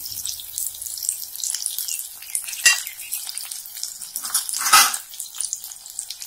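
Onion, capsicum and curry leaves sautéing in a pan, a steady close hiss and sizzle with a couple of louder bursts as the pan is stirred, no voices.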